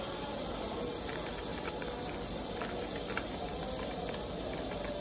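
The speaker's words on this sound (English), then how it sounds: "Tone it down a little bit, sizzling too much." Sauce for a seafood boil with sausage, shrimp, crab legs and corn sizzles hard in a hot pan, a dense continuous crackling hiss that stays loud and steady throughout, with no voices.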